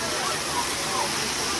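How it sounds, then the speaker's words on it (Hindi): Falling water in a park pours as a steady, broadband rushing roar, loud and unbroken throughout, with voices faintly under it. "ऐ देखो यार, यहाँ से पानी गिर रहा है"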